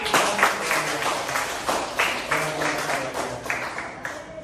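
A small group in a classroom accounting lesson applauds, irregular claps overlapping in a short, moderately loud burst that gradually thins out.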